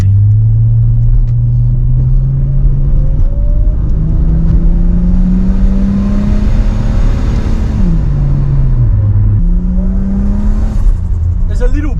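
Turbocharged RB30 engine in an R31 Skyline fitted with a KS mushroom pod filter, driving with a steady loud engine drone that rises and falls through gear changes, intake noise muted.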